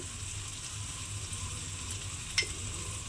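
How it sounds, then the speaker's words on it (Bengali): Cashew nut paste sautéing in a pan for a ridge gourd dish, a steady, even sizzle running throughout with one brief sharp clink of a utensil midway. "কাজু বাদাম বাটাটা দিয়ে আমি খুব ভালোভাবে একটু কষিয়ে নিয়েছি।"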